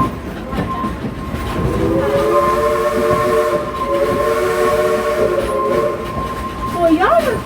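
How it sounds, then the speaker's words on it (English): A theme park steam train's whistle gives a sustained toot, sounding loud and near over the rolling clatter of the cars, with a second short whistle burst near the end. "Give us a couple more toots on that whistle there, Ichabod."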